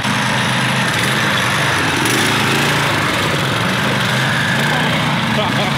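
A go-kart engine runs steadily throughout outdoors in a yard, a continuous buzzing drone with voices talking over it.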